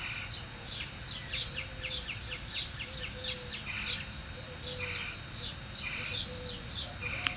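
Birds singing at sunrise in an Arizona backyard, with repeated bright chirping phrases at moderate distance and a steady low background hum beneath them.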